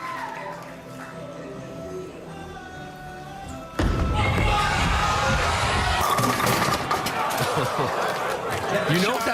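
A crowd at a professional bowling event cheers and shouts loudly after a shot, with a burst of applause and yelling over ongoing chatter, while a commentator talks before the noise rises.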